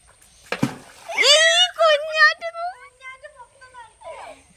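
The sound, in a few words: object thrown by father splashing into river water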